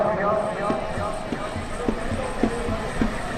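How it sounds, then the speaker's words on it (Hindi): Hooves beat in a steady rhythm as a horse gallops at a neza bazi tent-pegging event, a run of regular thuds under a loud commentator's voice and crowd noise. "अच्छा घोड़ा अच्छे सवार"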